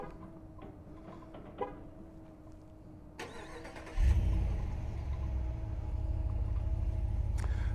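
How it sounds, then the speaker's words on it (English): A 2022 Jeep Wagoneer with the 5.7 V8 and eTorque fires up via auto start: quiet clicks and a starter whir, then the engine catches and settles into a loud, steady, low exhaust idle. "See if we can get the exhaust noise."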